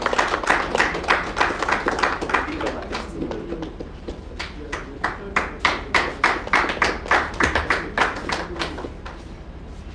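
Audience clapping welcomes a speaker to the stage at the 2021 BRATIM professional assembly, scattered sharp claps settling into a steady rhythmic patter while a voice talks over it.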